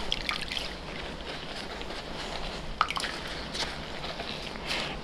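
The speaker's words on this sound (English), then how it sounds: "I'm gonna lift a skein out and squeeze out the water" Dyed wool yarn skein lifted from a dye bath and squeezed, giving wet squishing and dripping water sounds with a few small splashes, fairly close and quiet, no talk.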